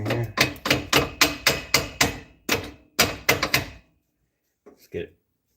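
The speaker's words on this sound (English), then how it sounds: "The bigger boy hammer here." A large hammer striking metal during an exhaust installation on a Chevy Astro AWD van, a rapid run of loud, sharp blows in quick succession, a brief pause, then a few more hits before silence and a faint knock.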